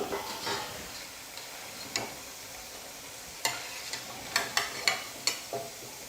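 Bread vadas made with carrot, raw rice and onion frying in hot oil, a quiet steady sizzle punctuated by several sharp ticks and taps from a utensil turning them.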